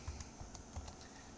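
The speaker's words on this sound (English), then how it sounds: "I will type in my root password" Faint, close computer keyboard typing during a Linux install as a root password is entered, a handful of light, uneven key clicks spread across the moment with no voice.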